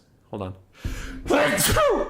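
During a Warhammer tournament game, a person sneezes once loudly and close, with a short vocal gasp beforehand and a noisy burst afterwards, and someone speaks briefly nearby.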